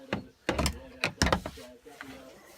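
A few close metallic clicks and clunks from reaching inside a Land Rover Discovery 1 tailgate to push up the lock's release bar, spaced irregularly with a quieter rattle at the end.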